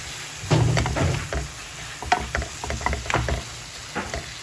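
Bread stuffing being mixed with salt in a bowl, soft irregular scraping and squelching stirs, fairly quiet over a faint steady background hum.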